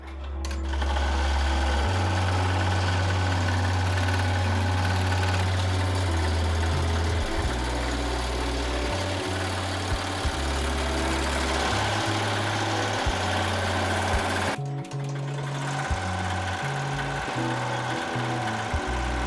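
An embroidery machine runs a tack down stitch on a hoodie, its needle motor whirring in a steady loud mechanical drone with shifting pitch steps and a brief pause partway through.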